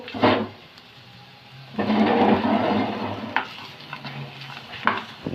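Peas go into softened cooked minced meat in a frying pan and are stirred, giving scraping, sizzling bursts with a long stir in the middle and short clinks around it, close up, with no talking.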